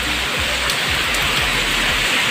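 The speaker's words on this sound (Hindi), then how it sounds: "देखिए कितनी ज़ोरों की बारिश होने लगी अचानक से" Heavy rain pours down steadily in a continuous loud hiss, with no talk over it.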